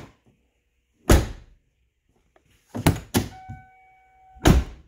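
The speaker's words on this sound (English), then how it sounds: "This, my friends, is how Ford Mercury Lincoln doors open and close." A Lincoln Town Car door being opened and shut, four solid thunks spaced over a few seconds, with a brief chime tone after the middle pair, close and otherwise quiet.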